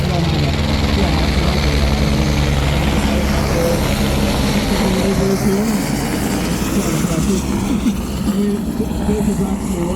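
A helicopter flies over Lusail International Circuit, its rotor and engine roar loud and steady throughout, with people talking underneath.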